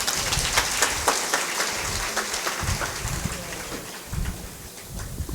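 An audience at a Guru Purnima festival gathering in Kota, Rajasthan, claps for a devotee, dense, fairly loud applause that rises and falls in waves with a few louder bursts.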